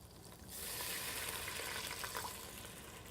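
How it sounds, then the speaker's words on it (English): White wine poured straight into a hot La Cuisine casserole dish with chicken, giving a steady broadband sizzle and hiss that surges after a quiet start and holds, with no talking. "What you're going to do is take your wine and pour it directly in."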